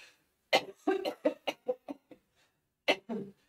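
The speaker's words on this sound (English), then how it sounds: "I need to cough a little bit more." A run of harsh, dry coughs in quick succession, then a pause and two more coughs, close and loud.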